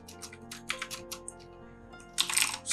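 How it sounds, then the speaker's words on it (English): Close, soft clatter of keystrokes as a URL is typed on a computer keyboard, a quick irregular run of taps followed by a denser burst of keys near the end. "So in order to do, I just type our website"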